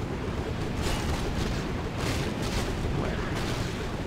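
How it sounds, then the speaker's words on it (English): A siege engine's flamethrower fires in the Warcraft 3 Frozen Throne Scourge campaign, a loud, continuous roaring whoosh with surging bursts, dense and broadband throughout. "Why does a siege engine have a flamethrower?"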